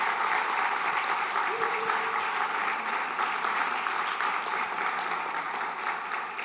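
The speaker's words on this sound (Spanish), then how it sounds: "Reciban un aplauso de bienvenida de la gente linda que está hoy aquí apoyando nuestra reunión" A church congregation at a Sunday gathering gives sustained welcome applause. The clapping is dense and steady throughout, fading slightly near the end, with no talking over it.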